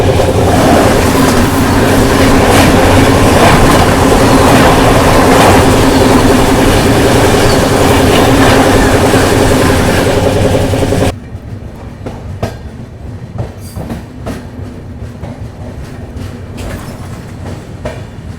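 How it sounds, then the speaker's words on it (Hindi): Kerala Superfast Express, the daily New Delhi to Thiruvananthapuram Central train, rushes past close by with loud, steady rumble and clattering wheels for about eleven seconds, then cuts to a much quieter rolling hum. "आप सभी को क्रॉसिंग दिखाते हैं इंडिया की 3rd longest daily running train, यानी कि नई दिल्ली को केरला के त्रिवेंद्रम सेंट्रल के साथ कनेक्ट करने वाली केरला सुपरफास्ट एक्सप्रेस के साथ"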